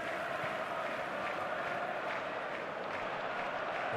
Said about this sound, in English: at least the crowd are appreciative of his efforts